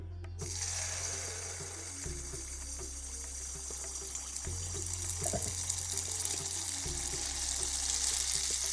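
Dhuska batter, a Jharkhand breakfast fritter, frying in hot oil with oil spooned over the top, giving a steady close sizzle and crackle that runs without a break and gets slightly louder toward the end.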